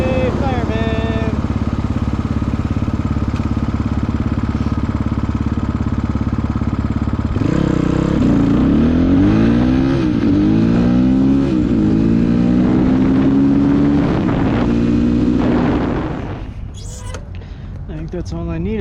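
A 2022 GPX FSE300R motorcycle with an aftermarket ARacer ECU idles loudly up close, then revs repeatedly in rising and falling sweeps before settling, with brief crackles on deceleration and a voice speaking over it.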